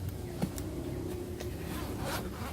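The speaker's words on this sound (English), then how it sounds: "the zipper of the main compartment zips all the way down here" A main-compartment zipper on a Tumi Alpha 2 T-Pass business laptop backpack, a steady close scraping run with no pauses, heard alone.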